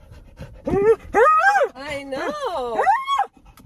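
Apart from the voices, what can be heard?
excited dog panting in car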